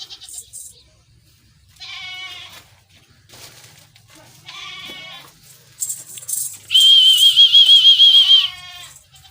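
Goats bleat several times in short, wavering cries at a livestock market, one long loud bleat near the end, with faint background sounds between calls.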